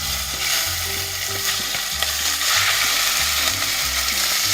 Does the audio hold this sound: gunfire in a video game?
no